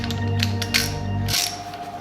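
A wrench ratchets on a rusted bolt in an old engine, with quick clicking turns over a steady hum, ending as the bolt head snaps off.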